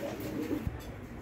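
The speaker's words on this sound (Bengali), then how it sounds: "এই বাচ্চা কবুতর জোড়া দেখবেন আপনারা" A pair of young pigeons, about two and a half months old, give a soft, brief coo at close range against quiet background hiss.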